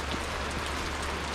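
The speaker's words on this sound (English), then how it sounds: "it started to rain." Rain falls at a campsite in Earl Rowe Provincial Park, a steady, even hiss of drops pattering on surfaces nearby with no voices.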